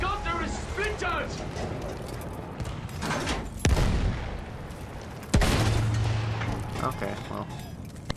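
Gunfire and booming explosions in the Battlefield 1 campaign's WWI trench assault, with sharp loud blasts near the middle and end over steady battle noise, while someone talks over it.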